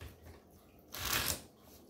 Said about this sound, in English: So they are shuffled.